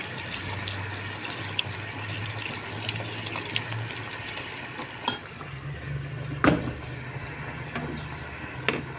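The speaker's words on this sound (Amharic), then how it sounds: "የፈላ ውሃ ጨምርበታለሁ ማለት ነው።" Boiling water is poured into a cooking pot, giving a faint, steady watery rush with a few soft clinks and splashes scattered through, and no voices.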